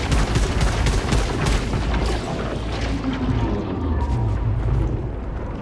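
Dense, continuous sci-fi gunfire and booming impacts from shooting goo in the video game Returnal, loud and sustained throughout with rapid bursts over a heavy low rumble.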